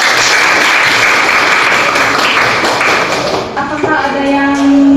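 Students applauding in a junior high school classroom, a loud dense burst of clapping that runs about three seconds before thinning out as voices start talking over the tail.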